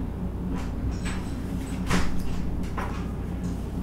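A door opens as someone arrives home, with a few sliding and knocking thumps over a steady background hum, close by and moderately loud.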